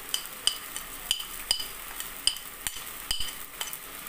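Whole black pepper and cumin are stirred into chicken frying in a handi, giving a steady low sizzle broken by sharp clinks of a spoon against the pot about every half second, close and moderately loud, with no talking.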